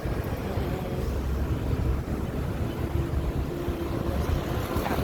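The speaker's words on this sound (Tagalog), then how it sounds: "Hangin. Sobrang hangin." Strong wind roars steadily past the microphone near residential buildings, a loud low rumbling gust with no other sound.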